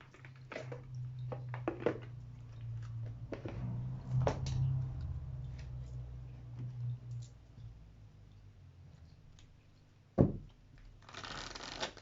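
A deck of oracle cards is shuffled by hand, with repeated riffling and sliding bursts. A sharp slap comes near the end, then a final flurry, all close up over a low hum without talk.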